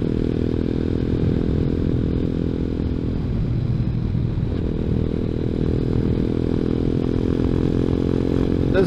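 A Grom clone ZS190 motorcycle runs steadily nearby, its engine note holding a constant idle-like drone with a slight dip and clatter midway, loud and alone without talk.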